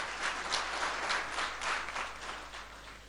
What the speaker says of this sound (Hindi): इनके लिए भी एक बार जोरदार तालियां हो जाए